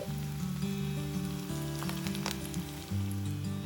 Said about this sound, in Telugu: మనం తయారు చేసుకున్న టిక్కీని ఒక్కొక్కటి వేసి వేయించుకుందాం.